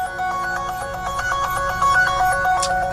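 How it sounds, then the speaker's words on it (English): Phone ringtone announcing an incoming call, a bright repeating electronic melody of short tones, loud and close, playing alone without speech. "Hey, that's a phone call for me."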